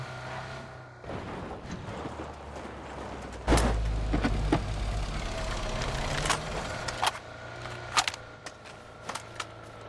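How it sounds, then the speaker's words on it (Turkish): Several cars approaching in the PUBG battle royale game, a steady low engine drone rising under scattered sharp gunshot cracks and clanks, with no talking. "İki tane daha araba geliyor."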